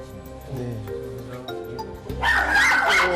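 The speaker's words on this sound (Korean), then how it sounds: "엘리베이터에서 다른 강아지만 만나면 예민하게 반응하는 테리 때문이었는데요" A small dog reacts to another dog inside an apartment elevator, yipping and barking over a dense, busy background, with the barking growing louder and more frantic in the final second.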